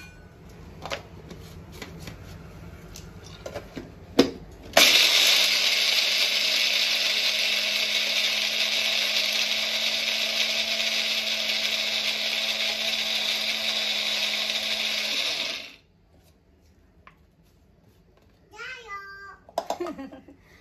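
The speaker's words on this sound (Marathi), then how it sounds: "चटणीसाठी मी बारीक केलेल्या खोबऱ्यामध्येच ही डाळ घालून घेत आहे आणि ती पण बारीक करून घेत आहे" A kitchen mixer grinder whirs loudly and steadily for about ten seconds, blending coconut and dal into chutney, starting abruptly and cutting off sharply, with faint clatter before and soft speech afterward.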